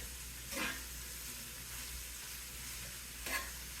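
Eggplant, tomatoes and fresh garlic sauté in a pan with a faint, steady sizzle, broken by two soft stirring scrapes.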